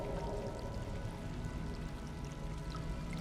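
Water pours steadily and continuously in the video game Stray, a soft close rush that holds even and unbroken throughout, with a brief louder splash right at the very end of the pour.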